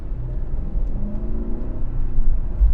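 Mercedes-Benz GLE 580 engine pulling in sport mode from second gear at about a third throttle, a low, steady rumble with a rising tone, heard from inside the cabin.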